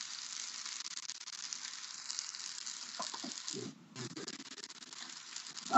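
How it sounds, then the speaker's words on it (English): Food fries in a hot pan with a steady, fairly quiet hiss and crackle of sputtering moisture, continuing alone with a brief dip and a few soft clanks near the end. "So you can hear it hissing because there's still a bit of moisture in there."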